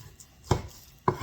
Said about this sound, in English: We're gonna cut this up in chunks before we sear it.